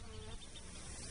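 Bees buzz loudly and continuously in flight, a steady droning hum with no pauses and no voices.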